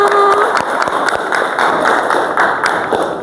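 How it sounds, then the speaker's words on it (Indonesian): A class of students claps together at the end of a lesson, sharp, evenly spaced hand claps in a steady rhythm, fairly loud, with faint voices in the room. "Tepuk tangan buat kita semua."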